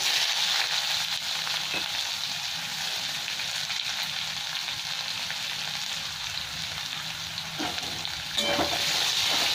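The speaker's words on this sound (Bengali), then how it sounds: "পেঁয়াজটা একটু ভেজে নেবো।" Chopped onion frying in a pan of already-fried spices for a Bengali masoor dal with bitter gourd gives a steady, close sizzle with stirring scrapes throughout.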